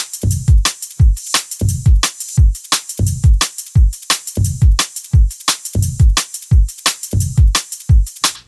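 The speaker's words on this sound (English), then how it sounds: "drums basically sound like this the entire time." A drum and bass drum loop: punchy kicks and crisp snares in a fast, steady stepper-roller groove with busy hi-hats, loud and repeating evenly throughout.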